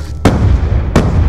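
Two sharp, loud pistol bursts from a three-round burst sidearm in Black Ops 2 gameplay, each a punchy crack with a booming tail, spaced about 0.7 seconds apart.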